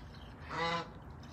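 A single loud, nasal honk from a goose sounds nearby outdoors, brief and alone over a quiet background.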